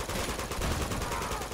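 Rapid gunfire in Uncharted 2: Among Thieves, a dense, continuous burst of shots, loud and close, with no pauses.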